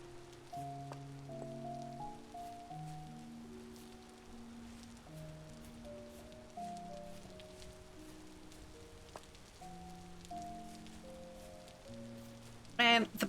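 Soft rain patters faintly in the Chilltown video game, a steady hiss sitting beneath gentle melodic music throughout.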